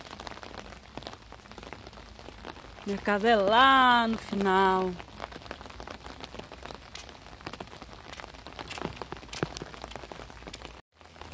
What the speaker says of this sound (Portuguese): Porque tá chovendo.